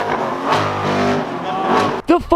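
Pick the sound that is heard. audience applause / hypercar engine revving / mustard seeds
hypercar engine revving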